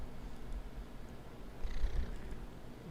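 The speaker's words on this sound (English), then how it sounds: "Listen to that purr." A cat purrs softly and steadily up close, a low continuous rumble with gentle rises in each breath and no other sounds.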